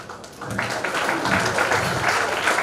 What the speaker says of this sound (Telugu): చప్పట్లతో మారుమోగండి